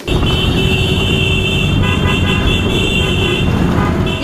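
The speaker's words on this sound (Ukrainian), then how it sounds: "Якщо ви чули хор голосних клаксонів" Continuous loud traffic with steady horn tones sounding throughout, several car horns blaring together over engine rumble, from a column of bikers.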